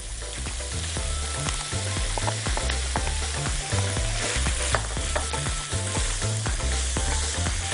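Vegetables stir-fry in a hot pan for Chinese chicken and vegetable rice, a continuous loud sizzle heard alongside a rhythmic musical backing.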